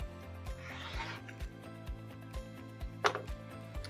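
A rotary blade trims a fabric strip for a quilt block, giving a soft rasping rub across the cloth and cutting mat under steady rhythmic background thumps, with a brief sharper scrape near the end.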